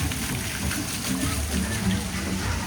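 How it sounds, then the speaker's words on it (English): Water in the interactive fountain of Moana's Journey of Water rises to meet a visitor's hand, a continuous splashing rush heard under a person talking. "extend your hand out, and the water comes up to meet your hand"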